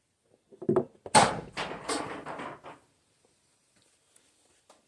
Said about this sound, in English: That little thumping sound you just heard is some kind of a nut tree overhead.